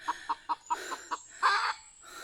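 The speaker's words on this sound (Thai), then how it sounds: "ทุกคนนี่คือไก่ป่านะ" Jungle fowl clucking: a run of five short, evenly spaced clucks, then a softer one and a louder, drawn-out call, all close by with no talk.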